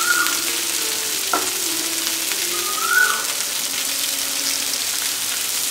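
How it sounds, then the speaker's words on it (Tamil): Potatoes roast in a pan with a steady hiss and crackle of hot oil, a constant close sizzle with a brief scrape or stir partway through, no voices. "உருளைக்கிழங்கு நல்லா ரோஸ்ட் ஆகிட்டு"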